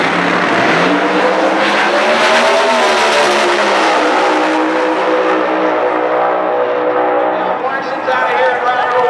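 Precision Turbo Pro Mod drag race cars at a high-desert strip, a loud, sustained roar of engines rising in pitch and then easing off, with an announcer talking over it.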